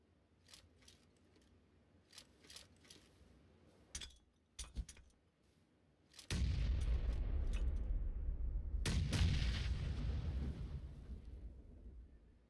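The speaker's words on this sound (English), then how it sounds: "Throw a nade, throw a nade." Grenades explode in a video game shooter: after scattered clicks and clatter, a loud, long booming rumble rolls in, fades slightly, then a second blast hits and decays gradually, with no one talking.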